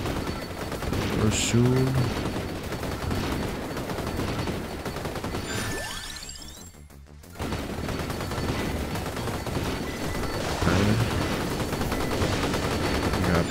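A gun weapon in Vampire Survivors fires continuously amid dense game effects and music, with a short dip near the middle. A voice talks briefly over it.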